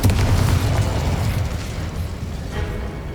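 A Confringo blasting spell detonating in Hogwarts Legacy, a loud booming explosion with a heavy low rumble that bursts at once and then decays into a lingering crackle and debris.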